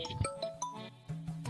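A phone rings late at night in a Tamil comedy sketch: a short electronic ringtone melody of bright repeated tones over a low hum, clear and close with no talking.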